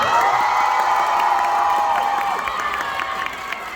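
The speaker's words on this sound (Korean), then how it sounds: "다시 한번 큰 박수 와환호 부탁드리겠습니다" A packed audience cheers, screams and applauds at a film stage greeting for The Little Mermaid with Danielle of NewJeans, a loud, continuous wall of crowd noise with high excited shouts fading slightly toward the end.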